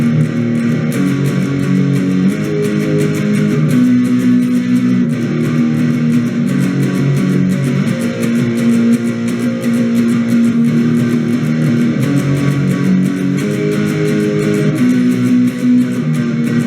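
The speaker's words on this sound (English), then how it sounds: "Now let's get to the chorus, which should sound like this." Distorted electric guitar playing the chorus, a continuous loud wall of driving power chords with a steady strummed rhythm and no pauses.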